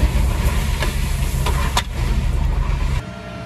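Concrete mixer churning as gravel is added for a steel-frame grain store floor: a loud, steady engine rumble throughout with a few faint clanks, easing off sharply near the end.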